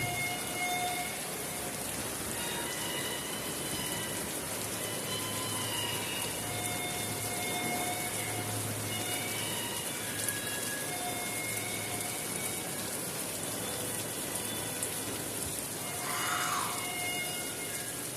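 Steady rain falls over a village in the rainy season, a continuous hiss of drops with faint scattered chirps and tones over it, no talking.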